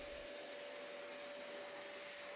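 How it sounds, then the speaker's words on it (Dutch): Vacuum cleaner sucking dust from a home ventilation grille, a steady, faint whining hum running unchanged through the brief moment. "Zuig met de stofzuiger het stof weg"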